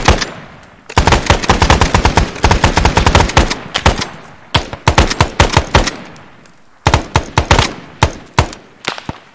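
Sustained machine-gun suppressing fire in the Arma 3 Vietnam-era military simulation, loud and close, in rapid bursts of dense repeated shots with brief pauses between volleys.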